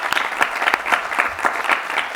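Brief applause from the audience at a pre-university debate league award ceremony, a moderate crowd clapping in slightly uneven bursts, heard alone with no voices over it.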